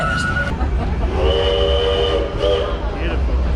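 An amusement park train ride rolls along at Six Flags Over Texas on a Halloween festival night. It sounds loud and close, a whistle or horn tone sustained over steady rumble, with people talking underneath.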